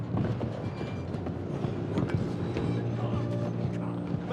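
A train rumbles and clatters steadily along the tracks in Red Dead Redemption 2, with clicking wheel noise and gunfire cracks breaking through the continuous roar.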